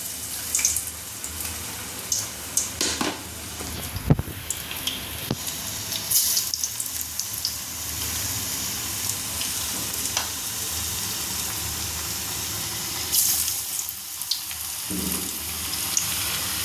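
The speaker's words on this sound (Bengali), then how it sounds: "আমি ভেজে নিচ্ছি আলতো আলতো করে" Onion fritters (piyaji) shaped into round balls frying gently in hot oil, giving a steady broadband sizzle throughout with occasional sharp pops and clicks of utensils, close and alone without speech.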